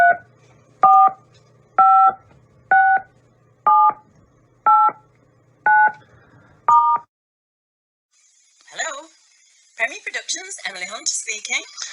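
A telephone keypad dials eight evenly spaced touch-tone beeps, loud and close, then a short silence before faint ringing and a voice answering.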